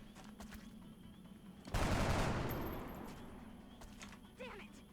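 Gunfire from soldiers in XCOM Long War: a sudden loud burst of rapid shots that rings out and decays over a couple of seconds, framed by faint clicks and small game sounds before and after.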